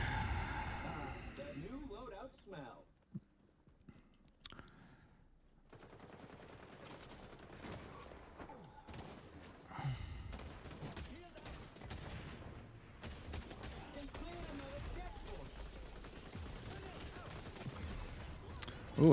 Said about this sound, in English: Ooh, this marksman rifle is nice.